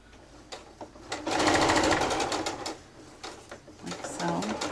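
A sewing machine stitches a quarter-inch seam on a zippered, lined quilted tote bag in quick rapid bursts, pausing between runs, with faint background sounds.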